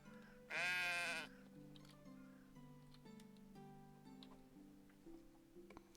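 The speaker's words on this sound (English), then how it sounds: "Sheep are so fluffy." A sheep in the video game Medieval Dynasty lets out one loud, wavering bleat near the start, followed by soft game music and quiet ambience.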